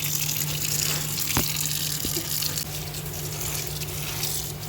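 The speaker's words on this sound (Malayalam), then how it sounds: "നന്നായിട്ട് വാഷ് ചെയ്തെടുക്കും." Spinach bought from a shop is rinsed in running water for pet lovebirds, giving a steady close tap-and-sink wash with a continuous gush. Two brief knocks break in near the middle.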